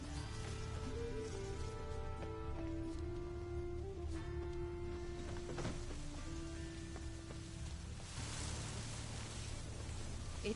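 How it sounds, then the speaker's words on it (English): A constant hiss of rainfall from The Witcher 3 fills the whole stretch, evenly loud, with soft sustained musical tones layered over the downpour and nobody talking. "Lots of fuss over lots of rain."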